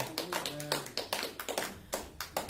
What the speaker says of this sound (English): Let's give God a clap offering, church.